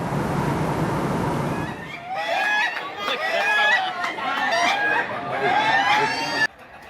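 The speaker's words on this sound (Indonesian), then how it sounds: "Ini beradu suara dalam kontes ayam ketawa tingkat nasional." Ayam ketawa, Indonesian laughing chickens, crow in rapid cackling bursts at a national contest in Yogyakarta, loud and overlapping amid crowd chatter after an opening stretch of broadband noise.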